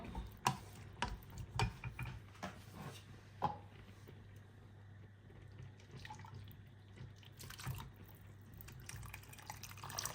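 Water stirred into thick pizza paratha gravy in a pot, with soft intermittent spoon clicks and scraping over a low steady hum, fairly quiet.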